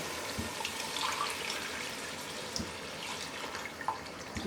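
Water pours steadily into a cooking pot for beef haleem, a constant splashing rush, close up, with a few faint knocks.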